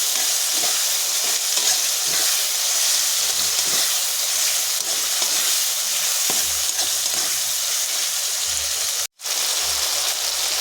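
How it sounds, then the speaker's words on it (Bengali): Ginger, cumin and garlic paste frying and being stirred in a pan, a steady dense sizzle with scraping stirs throughout, cut by a brief silent gap near the end, no talk. "এখানে আছে আদা বাটা জিরে বাটা রসুন বাটা করে নাড়াচাড়া করে নেব"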